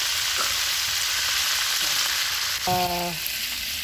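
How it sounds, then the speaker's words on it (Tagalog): Chicken frying in a pan at a seaside spot, a steady close hiss and crackle of hot oil with a short brief tonal clank partway through. "Pritong manok."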